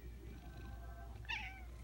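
A house cat gives a single short, faint meow near the end of a quiet, softly humming room, with no voices over it.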